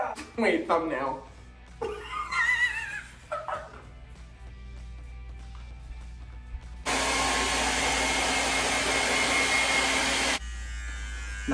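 A hair dryer blows during a home haircut, switching on partway through as a steady loud whoosh that then drops to a lower hum, after earlier stretches of talk and a dog's whimpers and yips.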